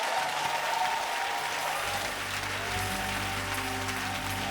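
A church congregation applauds during a French-language worship service, with steady, dense clapping that fills the room and swells slightly louder partway through, with no talk over it.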